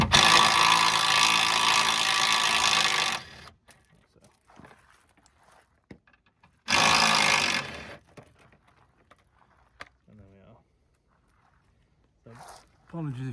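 A DeWalt power tool undoing screws during a service on a Kia Rio, two loud close whirring bursts of a few seconds each, separated by quiet handling clicks and clatter.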